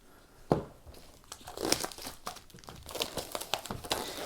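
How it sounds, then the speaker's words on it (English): Imperial Armour Compendium book being unwrapped from its plastic packaging, close crinkling and crunching of the wrap in irregular bursts, with a few sharp tearing rips and quiet pauses between handfuls. "Let's unwrap this. Carefully does it."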